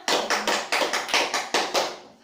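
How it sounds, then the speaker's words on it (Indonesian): A class in a microteaching chemistry lesson on reaction rates claps in unison, about nine sharp, evenly spaced claps close and loud, ending abruptly. "Kasih tepuk tangan dulu untuk kita semua."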